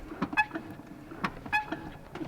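A car clutch pedal squeaks internally as it is pushed, giving several short, sharp chirps and clicks at irregular intervals inside a quiet vehicle cabin.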